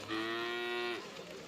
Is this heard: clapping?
no